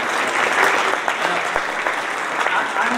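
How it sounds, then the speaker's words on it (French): Audience at a formal New Year's wishes ceremony in France applauding a guest, a steady, dense round of clapping from a seated crowd, close and fairly loud for the whole moment. "Je peux l'applaudir."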